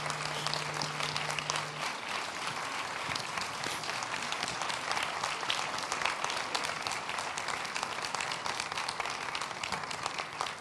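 An audience at the Ms. Geek Africa 2018 pitch event gives the girls a long, sustained round of applause, dense, even clapping filling the room without pause.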